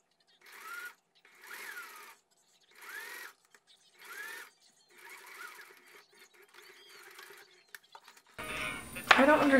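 A sewing machine stitches with a twin needle in short close bursts, five runs of whirring separated by pauses, before a voice starts talking at the end.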